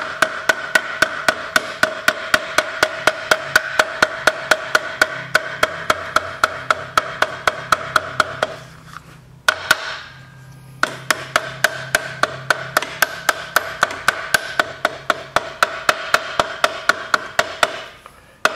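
Excess engine gasket material being trimmed with a tool, a rapid, steady series of sharp close taps and clicks, broken by a short pause midway before the rhythm resumes.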